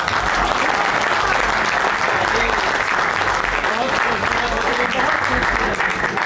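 Sustained, dense audience applause fills a poetry mushaira in Bahrain, a steady roar of many hands clapping at once without a break, loud and close throughout.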